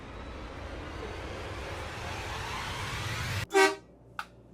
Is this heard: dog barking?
no